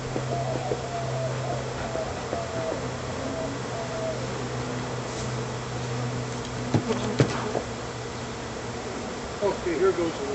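Bees buzz steadily around an open beehive during smoking before the lid goes on, a continuous close drone with a few soft knocks and a quiet voice now and then.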